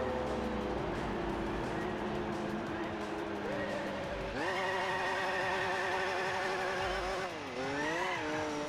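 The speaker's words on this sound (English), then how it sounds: "Generic fast car Gran Turismo noise." Fast car engine in Gran Turismo 4 on the PS2, revving continuously with pitch climbing through gear shifts, a sharp upshift midway and a brief dip and rise near the end, loud and close.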